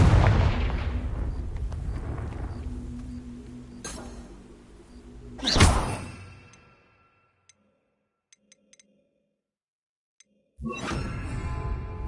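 A Confringo spell is cast in Hogwarts Legacy. A rumbling blast fades, then a sharp whooshing explosion swells and dies into near silence with a few faint ticks before loud game noise returns.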